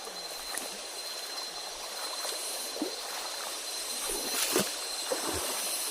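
A small, shallow, mossy river runs over rocks below a mountain, giving a soft continuous wash with faint gurgles and trickles scattered through it, steady and fairly quiet, with no voices.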